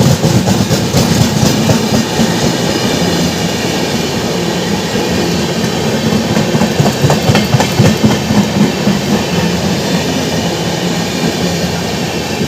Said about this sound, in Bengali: আর ওখানে আসছে হাওড়া রৌরকেল্লা বন্দে ভারত এক্সপ্রেস।